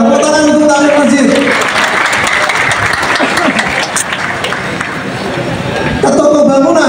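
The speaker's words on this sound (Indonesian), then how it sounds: "Tepuk tangan untuk takmir masjid." An audience at a gathering of mosque caretakers claps together in a sustained burst of applause, with voices speaking just before and after the clapping.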